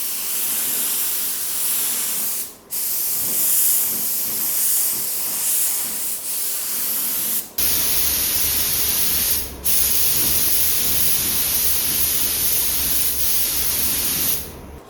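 A spray gun lays a third and final coat of urethane primer over a car body repair in long, steady hissing passes, each burst broken by short pauses and trigger releases.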